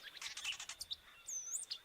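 A Yellow-tailed oriole (Icterus cayanensis) sings in a quick run of bright, clear chirps and whistled notes, close and fairly faint, with short gaps between phrases and no talking.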